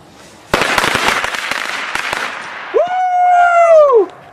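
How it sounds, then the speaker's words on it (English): Firecrackers go off in a rapid string of sharp, loud pops lasting a couple of seconds, followed by a dog's drawn-out howling whine. "This is the firecracker shot."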